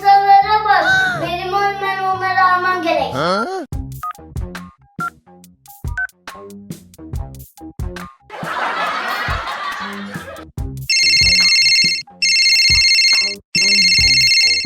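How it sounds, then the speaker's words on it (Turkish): Mobile phone ringtone heard near the end in a cartoon setting, loud electronic bursts repeating in three regular pulses after a mix of playful musical effects, squeaks and a noisy burst. "telefonum çalıyor."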